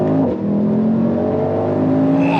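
Mercedes-AMG GT63 engine note during paddle downshifts, a loud, steady, close harmonic drone with a brief dip near the start and a faint rising whine toward the end.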